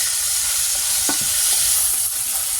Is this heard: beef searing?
yes